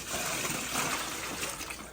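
Water pours steadily into the tank of an oil-fired boiler, a continuous splashing gush at moderate level with no talk.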